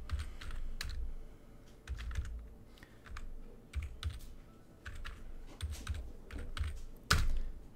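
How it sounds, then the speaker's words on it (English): Rapid typing on a computer keyboard, with close, crisp key clicks in irregular bursts, a few heavier strokes like a space bar or enter key, and no talking. "we're going to type warp plesiosaur"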